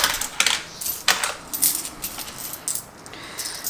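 Coins dropped and jingling into a paper budget envelope, a quick series of close metallic clinks and rattles in uneven bursts, loud against a quiet room.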